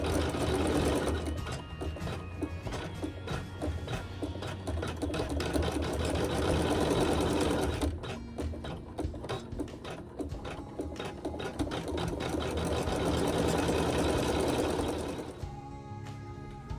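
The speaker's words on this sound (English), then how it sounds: "it's going to sew some really pretty quilting." An embroidery sewing machine stitches quilting on a fabric block, a loud, close, continuous rapid mechanical whir with a steady needle rhythm, briefly shifting pitch midway and slowing near the end.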